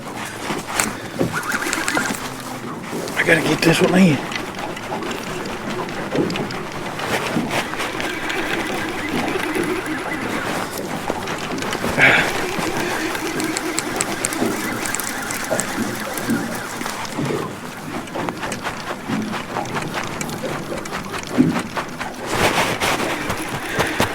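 A fishing reel's drag buzzes as a big catfish pulls line while running upstream in cold, shallow water. The whirring comes in long stretches with outdoor noise around it, and there is no talk.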